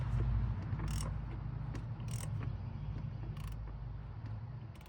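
A quiet series of creaking, ratchet-like clicks as a car's oil filter is tightened down onto its gasket, spaced irregularly about a second apart over a low steady hum.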